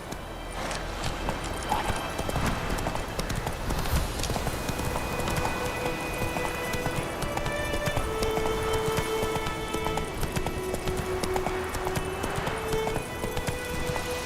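Hooves of the horse Roach galloping in The Witcher 3, a continuous rapid clip-clop rhythm close and steady over ambient game sound, with no talking.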